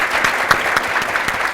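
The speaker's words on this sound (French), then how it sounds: "On applaudit pour l'émission." Studio audience applauding a show, a steady dense wash of many hands clapping with no voices over it, fairly loud throughout.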